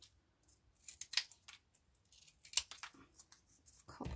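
Scissors snip through small cardboard pieces for a mixed-media stamping craft project, giving a few sharp close cuts and papery rustles with pauses between them.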